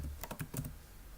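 A few quick keystrokes on a computer keyboard as a display name is typed, close and distinct, in a short irregular burst with no talking.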